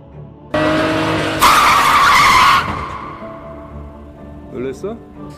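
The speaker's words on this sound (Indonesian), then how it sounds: "Tiba-tiba sebuah mobil muncul dan hampir menabrak mereka." A car skids with loud screeching tires, nearly hitting people on the street; the squeal rises sharply for about a second, then fades to engine rumble and faint voices.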